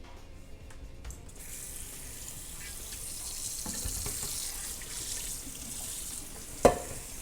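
Water runs from a tap into a sink during washing up, a steady hiss with faint clinks and a sharp knock near the end.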